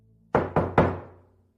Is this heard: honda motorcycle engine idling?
no